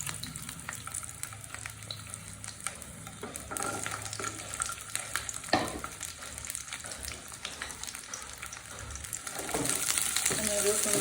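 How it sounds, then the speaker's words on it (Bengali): Garlic cloves frying in a pan for a Bengali garlic bhorta, a steady soft sizzle with occasional stirring scrapes, growing louder near the end. "আমি রসুনটাকে ভালো করে ভেজে নেব।"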